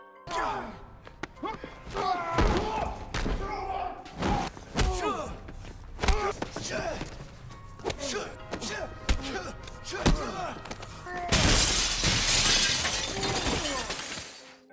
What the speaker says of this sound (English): Cassian catches up to him and fights him up until they crash through a window of the Continental